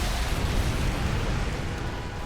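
Rumbling, crackling blasts from StarCraft 2 gameplay, a dense continuous roar of explosions filling the whole stretch at steady loudness with no voices.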